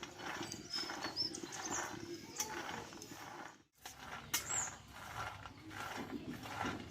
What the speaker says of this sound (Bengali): বাদামগুলো নামিয়ে আমি একটু ঠান্ডা করে ভালোভাবে একটু নাড়াচাড়া করে দেবো এইভাবে